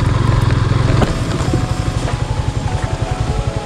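A Yamaha FZS V3.0 motorcycle engine runs loud and close on a rough offroad trail, a steady low drone that shifts about a second in into a choppier pulsing beat, with no talking.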